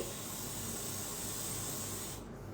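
A can of hard hair spray hisses in one continuous, loud, close spray lasting just over two seconds, then cuts off sharply, with no one talking.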